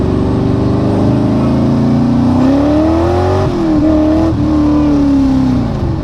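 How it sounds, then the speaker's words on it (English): A dune buggy drives along a street, its engine droning loud and steady close by, with the pitch rising and falling as the throttle revs and eases off. "It's funny the looks you get from people when you're driving a buggy around on the street."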